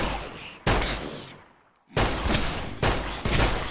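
A player's gun in Minecraft fires a few loud, sharp blasts, each ringing out briefly before the next, with a short pause between bursts.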